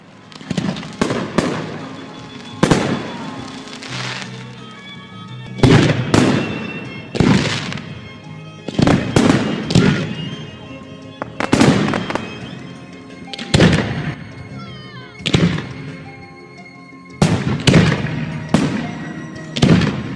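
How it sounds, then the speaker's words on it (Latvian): Fireworks salute bursting overhead on a New Year's Eve night at Kokmuiža manor in Kocēni: a long series of loud, sharp booms and crackles at irregular intervals, roughly a dozen big blasts with echoing tails over about twenty seconds. "raudzījās, kā debesīs uzplaukst ugunsziedi – salūts"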